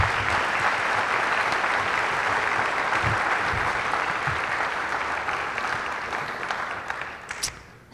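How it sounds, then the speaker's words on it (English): Audience applause fills a high school senior reflections and awards night, steady dense clapping from a large crowd that holds for several seconds, then thins and fades toward the end. "join me, in giving these individuals a round of applause"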